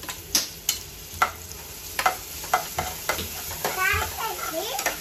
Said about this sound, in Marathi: आपला कांदा परतत आला की मी आपली आलं लसूण पेस्ट घालून घेते.